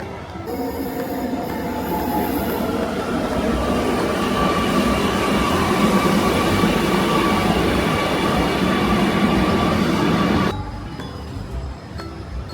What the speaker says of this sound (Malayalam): അപ്പോൾ നിലവിൽ മെട്രോയിലാണ്.